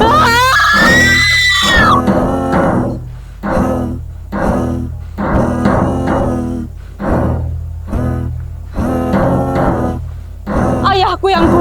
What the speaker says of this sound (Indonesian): ketika mendengar teriakanku yang sangat amat menderita